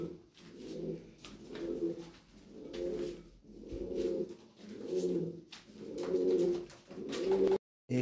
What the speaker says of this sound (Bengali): এখানে আছে টয় বিটের এক পেয়ার কবুতর